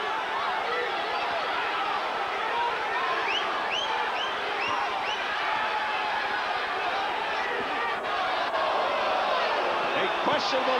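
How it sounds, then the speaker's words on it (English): A boxing crowd at the Corrales vs Castillo fight roars steadily in a large arena, with rising cheers and whistles swelling as punches land, and voices mixed into the din. "Crowd reacting on every throw"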